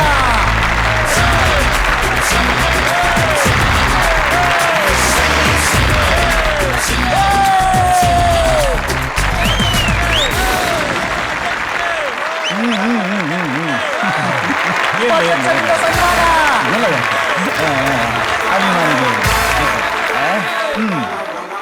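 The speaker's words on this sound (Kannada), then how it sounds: "ನಿಮ್ಮ ಚಪ್ಪಾಳೆಯೊಂದಿಗೆ ಚಿಂತೆಯಿಲ್ಲದ ಸಂಘದ ಅಧ್ಯಕ್ಷರಾದ ಚಂದ್ರಶೇಖರ್ ಗೌಡ ಬರಮಾಡಿಕೊಳ್ಳೋಣ." An audience at a village fair comedy stage show breaks into loud, sustained applause with cheers and whoops to welcome a society president, Chandrashekar Gowda, while music and voices carry on beneath the clapping.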